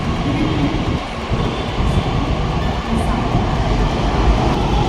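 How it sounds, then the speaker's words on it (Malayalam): Pune Metro train arriving at the opposite platform of an elevated station, a steady loud rumble and rolling hum throughout with faint talk in the background. "അപ്പുറത്തെ പ്ലാറ്റ്ഫോമിലേക്ക് ഒരു ട്രെയിൻ വന്നേക്കുന്നതാണ്."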